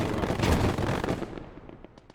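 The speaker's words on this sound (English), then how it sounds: "Have finally decided though to get a mortar of my own. Because I was over being mortared. Throwing shots in there." Mortar firing in the World War II strategy game Gates of Hell: Ostfront, a burst of booming shots and blasts at first that thins into scattered distant pops and crackles.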